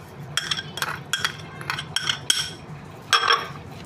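Clinking and scraping of a spoon against a dish as fried onions are stirred into minced meat for seekh qeema, in several short bursts with pauses between.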